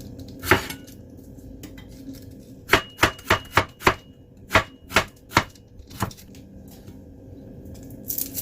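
A knife chops a quarter of an onion and half a shallot on a cutting board for a prawn and vermicelli pot, with about a dozen sharp, separate blade strikes landing in an irregular rhythm and no one talking.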